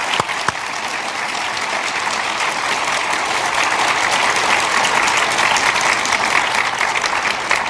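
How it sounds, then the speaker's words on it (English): A crowd at the close of an evening healthcare discussion event gives a round of applause, sustained dense clapping that swells slightly and holds loud to the end. "Let me ask you to join me in a round of applause"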